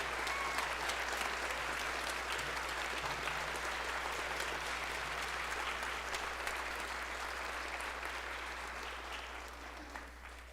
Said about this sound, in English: Applaud for your band.